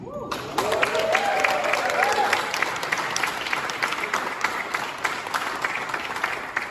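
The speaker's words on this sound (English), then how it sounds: "I just want to give a round of applause to Jason" A party audience applauds, dense clapping and some cheering filling the space at a steady level throughout, with voices calling out near the start.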